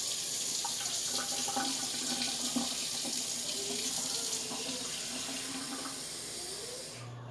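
Water runs steadily from a tap into a sink, a constant rushing splash that fades slightly toward the end.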